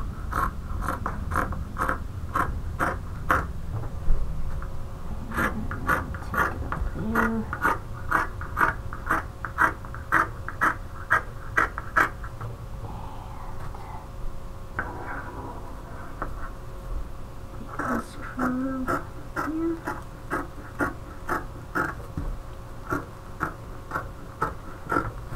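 Scissors cut through fabric along a curve while shaping a shoulder bag: a close, steady run of crisp snips in a brisk rhythm, pausing briefly midway before resuming, with no talking.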